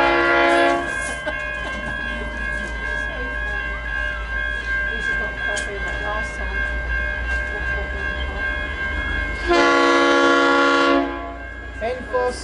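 V/Line express locomotive N468 thunders through South Geelong platform without stopping. The horn sounds at the start and again loudly around the middle of the pass, over continuous rail rumble, with voices heard alongside.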